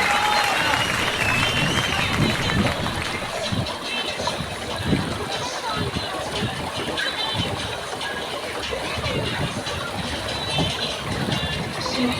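Crowd applause at an aquapark sending off a girl named Ela after a slide ride, steady clapping mixed with splashing water and outdoor chatter throughout.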